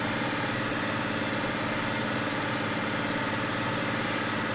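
An old 4960 tractor engine idles with a steady, loud, low rumbling throb and an even mechanical vibration throughout, close by and with no voices.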